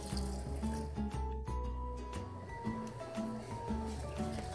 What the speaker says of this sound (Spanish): Vamos a poner agua necesaria para poder licuar